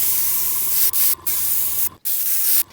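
A spray can laying clear coat on a large-scale model starship's parts, several close, loud hissing bursts with short gaps between them and no voices.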